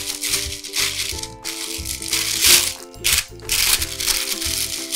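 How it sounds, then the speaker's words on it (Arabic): A plastic bag is handled in a home kitchen while pastries are being prepared, giving loud continuous crinkling and rustling close up, with rhythmic bursts and brief pauses. "هلا انا رح اخذ كيس"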